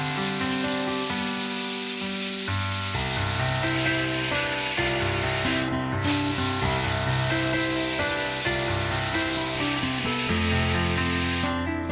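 A pressure cooker hisses steam in a steady, loud stream while ash gourd rice cooks, with a brief break midway and background music layered underneath.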